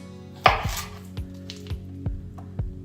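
An English cucumber being chopped on a cutting board with a knife, six or seven crisp, evenly spaced knife strikes close by, each a sharp thunk, with a low steady hum in the background and no talking.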